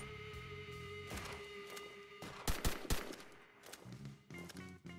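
Rapid automatic gunfire and sharp individual shots ring out in a Halunazi shooter game, coming in bursts with brief gaps, loud and up front over a faint background hum.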